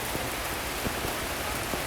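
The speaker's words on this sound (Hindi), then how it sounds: "अभी भी हल्की हल्की बारिश हो रही है" Light rain falling outside a train on a scenic railway route, a dense steady patter of drops hissing continuously with a few slightly louder taps scattered throughout.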